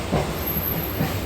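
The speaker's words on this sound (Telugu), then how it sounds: "ట్రైన్ వచ్చేసి 2 minutes లేటు." A train pulls into a station at Sullurpeta, a loud, close rumble of rolling wagons with a faint rhythmic clatter of wheels and a thin high hiss above.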